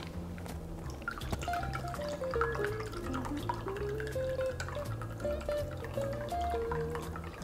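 A vanilla mint martini being strained into a glass, a thin trickle and drip of liquid running steadily under soft background music.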